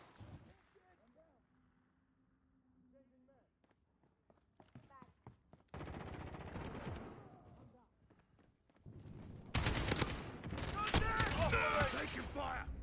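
Gunfire in the video game Modern Warfare: scattered single shots and short bursts early on, then heavier, denser rattling volleys later, with voices talking over much of it.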